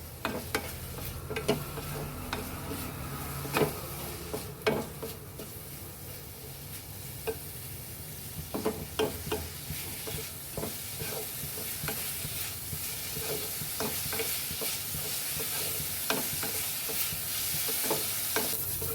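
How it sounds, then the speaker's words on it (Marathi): Salted chopped onion roasting in a pan for Saoji-style besan patodi, a continuous sizzle broken by repeated sharp scrapes and knocks of a spoon stirring, close and without speech. "मग थोडंसं असं ते कांदा आपल्याला छान असा लाल भाजायचा आहे"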